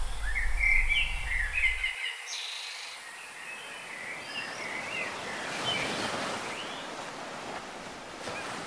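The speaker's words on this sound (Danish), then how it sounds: "Du kan fornemme skovens stilhed og lyden af fuglene, der har været vågne lige siden det første dagslys brød frem." Birds sing in a forest at dawn: scattered bright chirps and trills at moderate distance over a soft, airy wash of wind or distant surf, with a low hum fading out early on.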